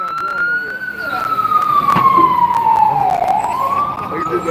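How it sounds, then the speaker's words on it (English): An ambulance siren wails loud and near in a long sweeping tone that glides down and then climbs back up, with people talking and crowd noise underneath outside a courthouse. "They made the ambulance people cut the siren off."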